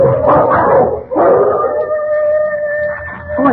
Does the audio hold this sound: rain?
no